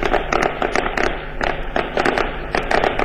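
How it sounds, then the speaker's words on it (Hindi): Firecrackers going off at a Congress party headquarters celebration, a loud, dense rapid string of sharp crackling bursts close by that keeps going without pause. "जिस तरह से पटाखों का शोर है"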